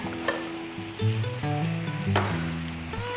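Onions sizzling on a Blackstone griddle, a steady frying hiss with occasional crackles, under a low tonal hum that rises and falls.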